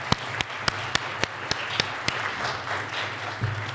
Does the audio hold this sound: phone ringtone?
no